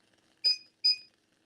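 Two short, bright electronic beeps sound from a kitchen timer set while fish stock simmers, each about a quarter second apart in a quiet room.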